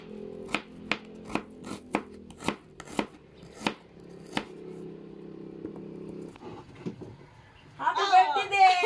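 Knife chopping onion on a board, about nine sharp, evenly spaced chops up close with a low hum beneath, then quieter clatter and a burst of voices at the end.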